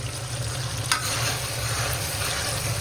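A tadka for saag crackles in oil in a kadai, giving a steady, close sizzle from start to finish with one brief metallic clink partway through.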